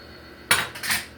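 A spoon knocks twice against a bowl while sour cream is scooped onto chili, two quick close clinks of metal on dishware in a quiet room.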